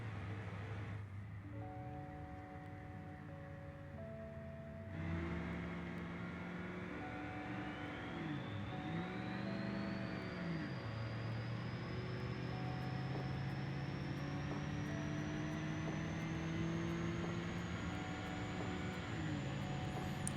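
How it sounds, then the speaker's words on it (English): A turbocharged car engine runs hard under boost while towing a trailer at night, holding a steady drone with rising and falling harmonics and a long, climbing high turbo whine. "That is one hard-working turbo."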